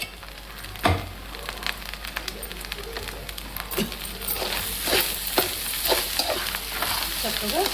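Fish curry frying in a pan just after coriander powder goes in: a soft continuous sizzle with scattered crackles and pops, plus occasional scrapes and knocks as it is stirred, no talking.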